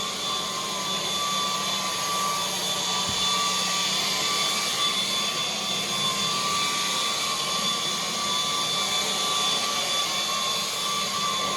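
MOOSOO and Dreametech high-power cordless vacuum cleaners running indoors, a steady loud whine with a sustained high-pitched motor tone, continuous for the whole stretch with no talk.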